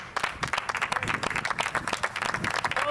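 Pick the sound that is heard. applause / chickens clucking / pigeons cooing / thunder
applause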